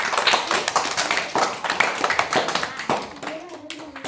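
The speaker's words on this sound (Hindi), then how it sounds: "तालियां" Children clapping in a village children's values class, a loose burst of hand claps with uneven, scattered strikes that thins out toward the end, with faint chatter around it.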